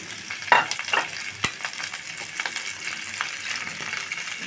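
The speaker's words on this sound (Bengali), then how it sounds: "মাছ ভাজা তেলের কড়াইতে আমি আরেকটু তেল দিয়ে নিব দিয়ে এর মধ্যে আমি দিয়ে দিব পেঁয়াজ কুচি রসুন কাঁচামরিচ" Chopped onion, garlic and green chili fry in oil in a karahi left from frying fish, giving a soft, crackly sizzle with scattered spatters and a sharp clink early on.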